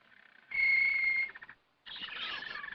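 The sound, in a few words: canaries singing in a pet shop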